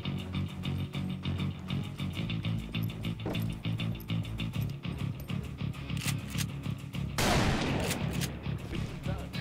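Repeated gunfire in the Xbox 360 western shooter Call of Juarez: Bound in Blood, rapid overlapping shots over a busy game soundscape, with one louder burst near the end.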